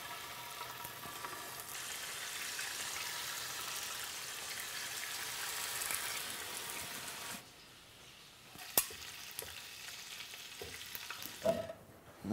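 Thinly cut bacon fries in a pan with a steady, dense sizzle for most of the time, then drops to a quieter hiss broken by a few sharp clicks and knocks of handling near the end, with no talk.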